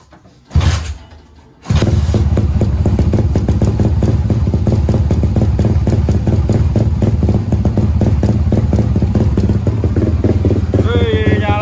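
A motorcycle engine catches after a brief starting burst, then runs loud and close with the throttle held open. It makes a steady, rapid, pulsing drone, and a short voice is heard near the end.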